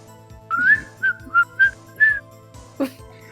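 Five short, bright whistled notes rise and hold in quick succession in the video game Phoenix Wright: Ace Attorney, followed by a brief sharp accent, standing alone over a low steady background hum.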